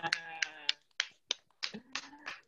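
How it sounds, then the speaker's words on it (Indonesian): Children clapping hands together in a small group, a few sharp bursts in a short, uneven rhythm, with voices chattering between the claps. "Tepuk tangan untuk kita semuanya."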